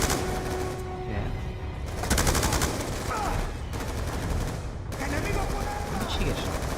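Gunfire rattles in the video game Black Ops 2, loud bursts of rapid automatic shooting and heavy blasts that continue almost without pause, with a voice talking underneath.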